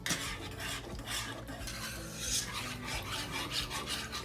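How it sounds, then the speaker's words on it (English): Ingredients are stirred together in a bowl until combined, a steady scraping and rubbing of utensil against the bowl that repeats in quick, rhythmic strokes, close and soft, with no speech. "Keep on mixing until everything's combined."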